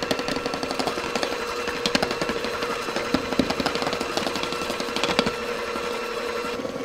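A stand mixer churns thick batter for Christmas angel wings as flour goes in, a steady loud mechanical whir with rhythmic knocking and rattling throughout.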